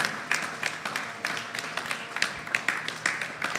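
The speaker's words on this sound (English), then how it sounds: "Yes, give them a round of applause." Congregation at a Krishna mandir Sunday service applauds young helpers who cooked the Mahan Bhog offering; steady crowd clapping with crisp individual claps, moderately loud and sustained throughout.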